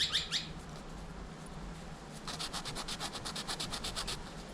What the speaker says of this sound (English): I've got the meshy sandpaper, cuts through your wood with it in no time.